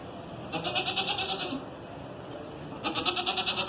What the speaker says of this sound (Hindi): ये है टेडी बकरी, माशाल्लाह से फुल एक्टिव,